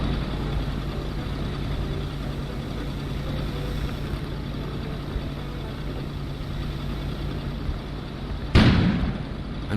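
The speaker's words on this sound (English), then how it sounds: "An explosion suddenly occurred outside." A sudden loud blast from outside in the video game Kona, a sharp burst near the end after a steady low engine-like rumble.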